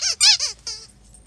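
A dog's squeaky pig toy, chewed by an English Springer Spaniel, gives four quick, loud squeaks in a row, then falls quiet.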